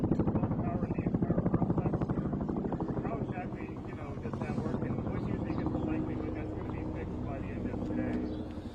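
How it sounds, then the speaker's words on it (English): Loud, throbbing helicopter rotor chop overhead at an explosion scene in Silver Spring, steady and close throughout, with an official speaking beneath it. "since the helicopter was kind of drowning it out"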